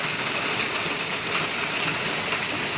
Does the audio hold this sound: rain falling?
yes